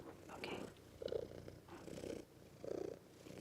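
A cat purring close by, soft rhythmic rumbling in repeated breaths at a low, quiet level with no talking.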